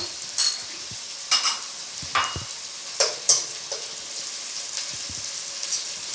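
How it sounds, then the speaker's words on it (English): Onions and a whole red habanero frying over high heat, a constant close sizzle broken by repeated stirring scrapes and clatters at a loose, uneven rhythm, with no voices. "And we'll fry it until it becomes tender."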